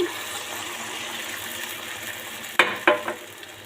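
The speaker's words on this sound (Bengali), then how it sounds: "এবার দিয়ে দেবো পরিমাণ মতো পানি" Oily fish-head masala for muri ghonto sizzles steadily in a pan, then water is poured in with two sharp hissing bursts close by.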